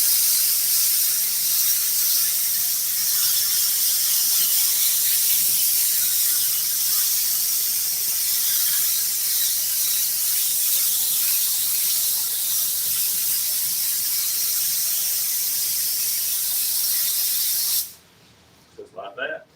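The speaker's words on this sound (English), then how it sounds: "Spray a little bit more glue on it." A steady, loud hiss of glue being sprayed onto headliner cloth for a Kenworth truck runs unbroken for about eighteen seconds, then cuts off abruptly, leaving a few faint knocks.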